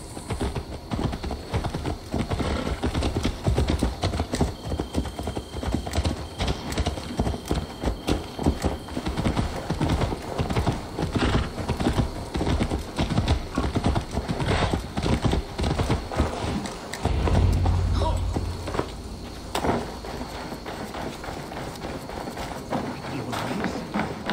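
Steady clip-clop of horse hooves trotting along in Assassin's Creed Valhalla, rhythmic and fairly loud, with faint game-like ambience and a brief low thump near the end.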